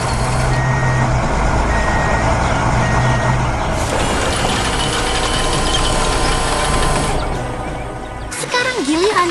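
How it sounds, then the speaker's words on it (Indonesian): A concrete mixer truck arrives in an animated construction scene, its engine rumbling loudly and steadily throughout with a repeating reversing beep sounding over it, tapering near the end. "Dan lihat, truk molen pun tiba tepat pada waktunya."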